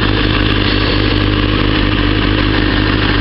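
A motorcycle engine drones loudly and steadily, as if heard while riding, with wind noise and no speech.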